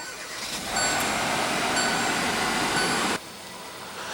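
A 2016 Hyundai Tucson's 1.6-liter turbocharged inline four-cylinder fires up with a push-button start, then settles into a steady, fairly loud idle for about two and a half seconds before the sound drops off abruptly.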